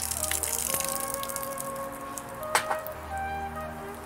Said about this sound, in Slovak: Zlejem vodu.